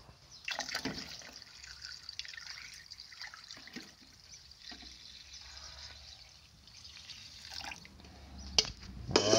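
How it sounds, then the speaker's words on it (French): Water trickles and splashes as it is poured into an ultrasonic carburettor cleaner tank. The pour is a steady, fairly faint flow with a few louder drips and clunks toward the end. "Hop, on va mettre un peu plus d'eau."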